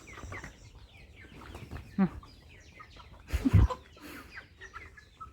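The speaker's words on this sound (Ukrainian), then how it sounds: "Отак буває, коли півнів багато, вони починають виясняти свої стосунки." Roosters squabble nearby with agitated clucks and a burst of flapping and scuffling midway, brief and close.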